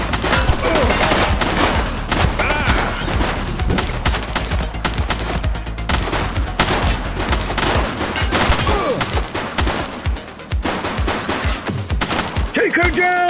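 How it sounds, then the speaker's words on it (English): Sustained bursts of automatic gunfire and rapid shots in The Precinct, a police video game, loud and dense across the whole stretch, with brief voices mixed in. "She's shooting!"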